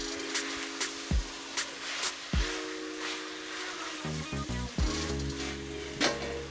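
Spicy chicken gizzards with Thai green chilies stirred in a hot pan, a steady close sizzle broken by the thuds and scrapes of the spoon against the pan, with no talk.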